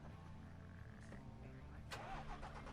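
A truck engine in the off-road driving game SnowRunner cranks and starts up on its own, heard faintly as a low idling rumble with a sharper burst near the end.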